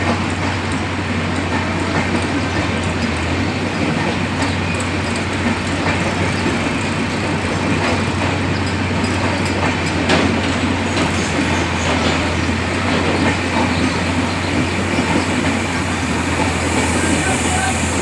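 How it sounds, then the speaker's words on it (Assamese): The Brahmaputra Mail passes through Nalbari railway station with a loud, continuous rolling rumble, a low steady hum and rhythmic clickety-clack of wheels on the rails, with a voice talking at times over it. "এয়া গৈ আছে ট্ৰেইন দিল্লীৰ ফালে।"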